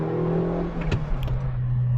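A Suzuki Swift Sport fifth-generation car engine revs and accelerates, a steady motor drone rising in pitch, fairly close with no talking.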